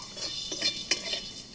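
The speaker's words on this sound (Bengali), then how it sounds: "আমি এখানে শুকনো খোলা এগুলো নাড়াচাড়া করে ভেজে নেবো।" Dry whole spices being stirred in a pan over low heat. A faint crackle runs under light metallic scrapes and a couple of clinks from the spoon against the pan. No talk.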